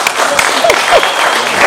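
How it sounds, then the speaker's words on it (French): Audience applause at a music event, a brief burst of clapping from the crowd, with a few whistles and voices mixed in over the short stretch. "Des applaudissements, s'il vous plaît."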